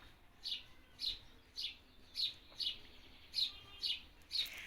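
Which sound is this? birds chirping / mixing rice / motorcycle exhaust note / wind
birds chirping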